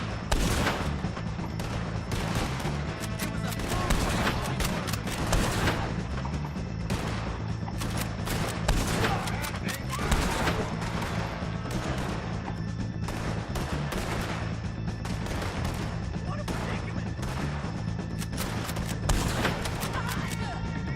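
Rapid gunfire from the Red Dead Redemption video game during a fight with the O'Driscoll gang, with dense, continuous volleys of shots crackling loudly throughout.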